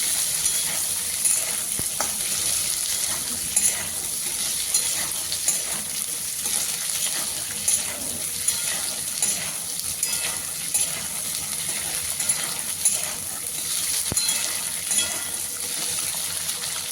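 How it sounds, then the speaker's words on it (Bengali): Green peas frying in a pan for a ghugni, a steady close sizzle with occasional clicks of stirring running throughout, no talking. "মটরশুঁটিগুলো বেশি ভাজবো না, 1 থেকে 2 মিনিটের মতো সময় ধরে ভেজে নেব।"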